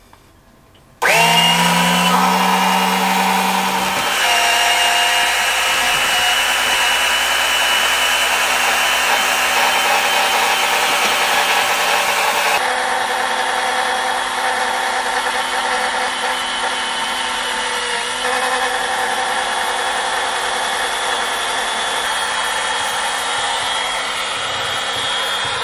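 An electric oil extraction pump starts abruptly and runs with a steady, loud whine while drawing transmission oil from a Yanmar 2GM20 marine diesel, its tone shifting slightly partway through.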